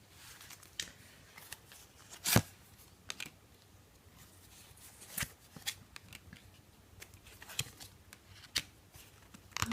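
Tarot cards being handled and shuffled, giving soft papery riffles and scattered sharp flicks and taps over a quiet room, with a few louder snaps standing out.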